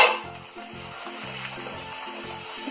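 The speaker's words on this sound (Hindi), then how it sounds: "कढ़ाई गर्म हो चुका है, अब हम इसमें भटूरे डालेंगे।" Bhature frying in hot oil in a kadhai, a steady close sizzle and bubbling with rhythmic bursts as the dough puffs, heard alone without talk.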